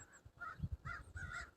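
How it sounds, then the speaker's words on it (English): Crows on a farm cawing while mobbing a hawk flying overhead: three or four harsh caws in quick succession, moderately distant and fairly faint outdoors. "So the crows are attacking one of the hawks that's flying over."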